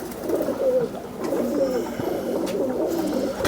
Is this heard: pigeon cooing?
yes